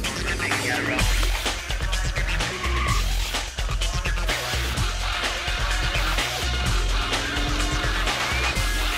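A car drifts with tires skidding and squealing over a roaring engine, the sound loud and continuous throughout and mixed with music.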